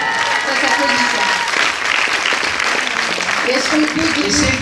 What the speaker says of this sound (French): Et on applaudit. Ça s'applaudit, ça.